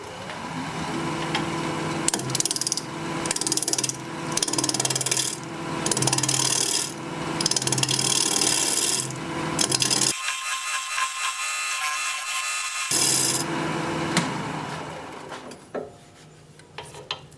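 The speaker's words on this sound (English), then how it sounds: "So I'm just going to use this roughing gouge and work about the last inch down here just to make that tenon." A roughing gouge cuts a tenon on a wooden vase blank spinning at just over 1100 RPM on a lathe, giving a steady loud scraping rasp that pulses in repeated passes, with a brief pause near the end.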